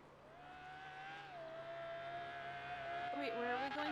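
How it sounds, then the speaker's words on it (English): A loud car engine in a roleplay video game drones steadily with a rising, rough tone that grows louder near the end, with voices talking over it. "Your car's fucking loud."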